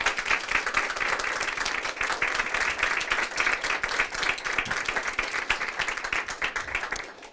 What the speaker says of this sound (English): I would very much like for our audience to provide our speakers with a warm round of applause